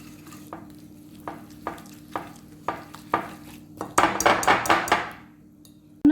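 Butter and powdered sugar are beaten together for Marie biscuits in a bowl, with evenly spaced scraping strokes that give way to a quick, louder run of beating near the end, over a low background hum.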